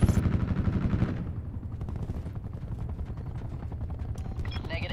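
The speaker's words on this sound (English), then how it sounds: "My teammate has that attack chopper" Attack chopper and gunfire in the video game Black Ops 4, with a steady rapid rattle of automatic fire and a rotor drone running loud and continuous throughout.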